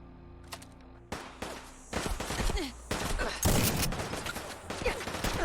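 Mossberg shotgun fire in Fallout 4, a run of sharp, loud blasts mixed with other gunfire in a busy firefight, repeated shots arriving irregularly with brief gaps between.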